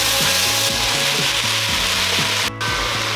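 Carrot, celery and shallot sizzle and fry in a pan alongside crispy tofu, a steady close crackle with faint rhythmic scraping of a utensil running throughout, no talking.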